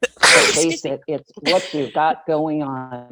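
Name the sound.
sneeze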